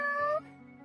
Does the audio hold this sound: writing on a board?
no